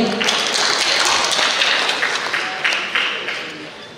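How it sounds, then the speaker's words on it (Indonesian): Lively applause from an audience at a city development planning meeting in Pekanbaru, welcoming the deputy mayor, a dense, steady patter of clapping that thins toward the end, with a few sharper individual claps. "Kita jemput dengan tepuk tangan yang meriah."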